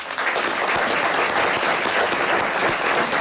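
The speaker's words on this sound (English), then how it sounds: "A round of applause, everyone, for Morrilton." Full audience applause at a high school quiz bowl match, a dense, continuous roar of clapping that holds steady and loud throughout.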